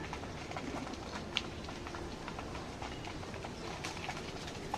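Pigeons in and around a loft coo and shuffle, with soft wing flutters and scratching over a busy, low-level background.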